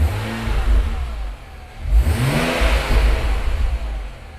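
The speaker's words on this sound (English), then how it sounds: "There's definitely more induction noise." A BMW N54 335i engine with hybrid turbos revs up loudly with a rising whine, drops back, then climbs again into a sustained throaty roar, close by.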